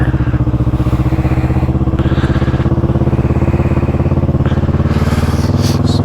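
A motorbike engine runs steadily and loud throughout, a close, continuous throbbing drone with a brief rise in revs near the end, ridden along little country lanes.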